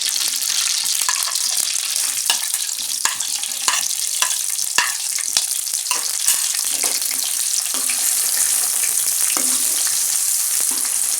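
Onions browning in hot oil with whole red chillies for an egg dal tarka sizzle steadily and loudly, broken by frequent short scrapes of a spoon stirring against the pan.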